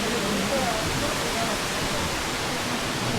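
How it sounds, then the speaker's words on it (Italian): A waterfall pours down beside an old mill building into a small pond, a loud, steady, broadband rush that fills the whole stretch with no break. "C'è la cascata, che scende accanto all'edificio creando un piccolo laghetto"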